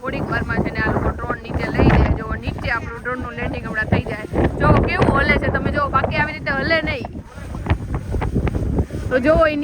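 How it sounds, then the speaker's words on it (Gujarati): Strong wind at a seashore in Diu roars and buffets the microphone while people talk loudly over it and a drone struggles to descend, the gusts rising and falling throughout. "બહુ પવન લાગે છે"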